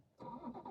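A BMW M240i, remapped to a detuned safe map, cranks and fires up after a brief quiet moment, then settles into a steady, close, rumbling idle.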